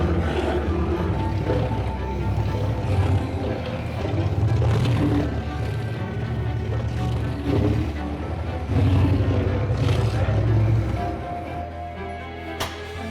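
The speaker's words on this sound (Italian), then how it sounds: "questa macchina serve per montarlo e farlo diventare ancora più fine del solito" A machine whipping pâté churns with a deep, steady motor rumble and rhythmic whirring surges in a Milan delicatessen, continuous and close, with no voices.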